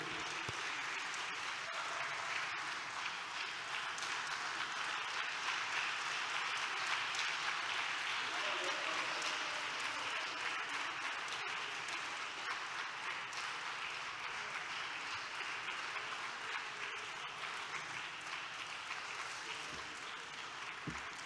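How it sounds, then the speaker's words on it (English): Sustained audience applause at a memorial colloquium, a dense, even wash of many hands clapping that holds for about twenty seconds before easing slightly at the end. "Please, let's give her another round of applause."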